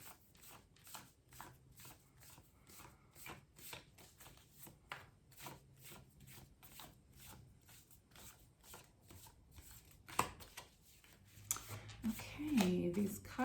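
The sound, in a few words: tarot cards being shuffled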